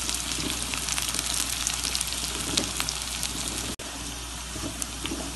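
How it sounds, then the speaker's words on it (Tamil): Small onions and curry leaves sautéing in a pan for a Tamil beans kootu, giving a steady, continuous sizzle and frying hiss with watery crackle, close and even throughout, with one brief dropout near the end and no talking. "இப்போ சின்ன வெங்காயம் வதங்கிடுச்சு"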